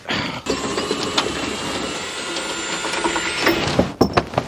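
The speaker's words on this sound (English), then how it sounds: "I'm going to whack that other bolt up with that impact gun now on the other side." Air impact gun tightening a bolt on the steering rack of a Mk1 Ford Focus in a garage, a loud sustained mechanical rattle followed by a few sharp hammering bursts near the end.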